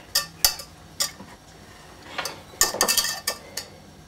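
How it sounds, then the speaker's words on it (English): A whisk clicks and clinks against a bowl while ingredients are mixed, in irregular bursts of bright metallic taps, fairly close and with no talking. "Whisk it together."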